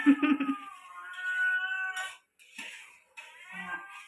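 A cat meows several times in drawn-out, wavering cries, fairly close and clear, with short pauses between calls.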